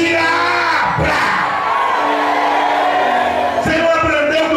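A church congregation shouts loudly together, a dense sustained roar of many voices with swelling cries and whoops, close and loud throughout.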